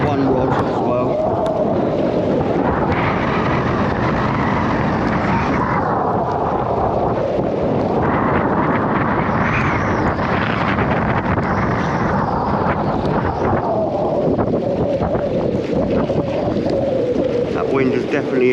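Strong wind buffets the microphone on a seaside fishing pier at Town Quay, Southampton, a continuous loud roaring rush that swells and eases in gusts throughout, with no other distinct sounds standing out.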